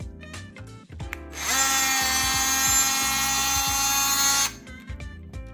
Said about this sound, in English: I'm gonna cut that with Senior Multi-Tool.